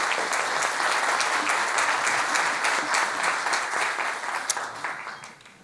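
An audience applauds at a military chaplaincy seminar, with loud, dense and sustained clapping close by that fades toward the end.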